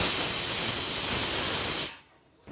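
A pressure cooker with toor dal inside vents a loud, steady hiss of steam for about two seconds before it stops abruptly.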